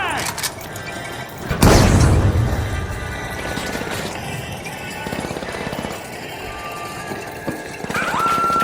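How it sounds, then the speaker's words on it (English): A frag grenade detonates in the video game THE FINALS with a single sudden boom that decays over about a second, amid busy in-game gunfire, clatter and voices. "Throwing a frag!"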